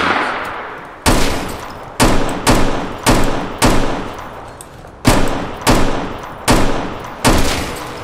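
Gunfire during a video game patrol: a series of loud, sharp shots in irregular bursts, each cracking and then decaying into a short echoing tail, about ten in all and close up, with no talk.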